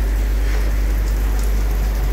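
Rain pours steadily while riding a trike through cold, wet weather on the road to Urubici, Santa Catarina, a dense, even hiss over a constant low rumble of wind and road noise, with no talking.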